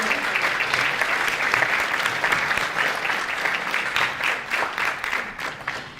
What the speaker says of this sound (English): let's give Raphael Sims a round of applause